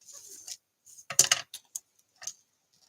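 Tear tape being peeled and pressed onto a paper pop-up card, a handful of short crisp crackles and ticks with pauses between, close and quiet.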